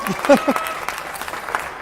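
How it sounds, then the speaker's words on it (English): Warriors fans applaud and cheer at a high school sporting event, a short burst of scattered clapping that thins out quickly, with voices talking over it near the start. "Some crappy cheering by the Warriors fans who are trying to figure out what just happened."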